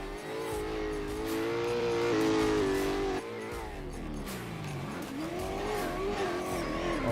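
A BMW race car in a racing video game drones steadily at high revs, its engine note holding, briefly dipping at a shift and then sweeping back up under hard acceleration, loud and close.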